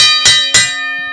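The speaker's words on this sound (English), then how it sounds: "He's going to wake up the dead with that bell by the time we're done." A bell struck loudly twice in quick succession, each clang ringing bright and metallic before decaying into a sustained hum.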